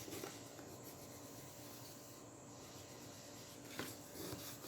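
A bone folder rubs and smooths glued cardboard for a box, giving a soft, steady rasping scrape with a couple of brief louder strokes, close up, with no talk.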